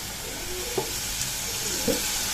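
Chopped onion and garlic frying in soybean oil in a pan, a steady close sizzle with a few soft stirring scrapes, and no voices.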